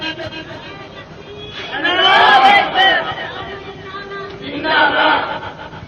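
Large crowd at a religious sermon gathering shouting slogans in unison in two loud surges, near and energetic, with quieter murmuring in between.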